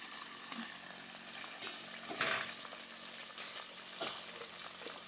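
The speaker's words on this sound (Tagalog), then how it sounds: "matalsik yung ating pinipirito" Catfish frying in hot oil, a continuous crackling sizzle with sharp pops and spatters bursting out now and then, close and fairly quiet, with no talking.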